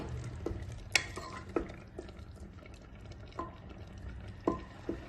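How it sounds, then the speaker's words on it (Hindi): A spoon scrapes and clinks around a pressure cooker in slow, irregular strokes, mixing vegetables with tomatoes for tomato soup, soft sizzling underneath and a few sharper knocks against the metal. "इन सब चीजों को टमाटर के साथ अच्छी तरह से मिक्स करेंगे"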